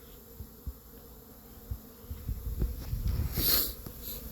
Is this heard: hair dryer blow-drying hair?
no